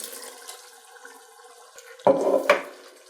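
Crushed tomatoes from a 28-ounce can are poured into a pot of lamb bolognese, a soft low background giving way to two sudden wet, splashing plops close by near the end.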